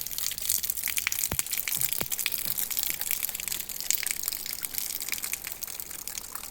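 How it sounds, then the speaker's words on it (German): Rainwater overflowing from a clogged gutter gushes and splashes steadily down a house corner in a continuous hissing pour, with occasional sharper knocks, close by and fairly loud. "Das Wasser läuft nicht durch das Fallrohr, sondern läuft alles an diese Hausecke"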